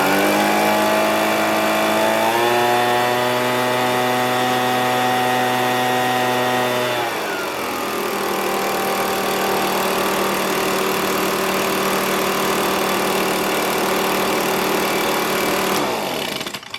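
An Echo PB265LN backpack leaf blower, a discarded unit, roars loudly at close range: its two-stroke engine climbs to a high whine under throttle for several seconds, then settles into a steady, slightly lower drone that runs to the end.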